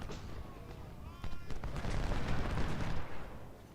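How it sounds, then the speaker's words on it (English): Artillery cannon fire in Ultimate General: Civil War, a series of booming, overlapping blasts that begin quietly and swell into a dense, sustained barrage over the battlefield. "Moving the artillery up here to pound these guys"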